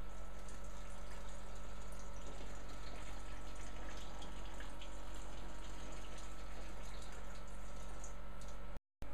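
Warm water spritzed gently onto terrarium substrate, a soft steady hiss and trickle under a constant low hum, lasting about nine seconds before a brief cut.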